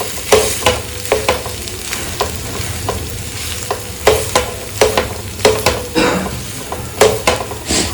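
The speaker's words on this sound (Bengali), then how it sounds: "এবার এই ম্যাশাটা দিয়ে আর একটু ম্যাশ করে দেবো" Potato being mashed with spices using a hand masher in a home kitchen, a steady run of soft thumping, squelching presses repeating about every half second, close and fairly loud, with no talking.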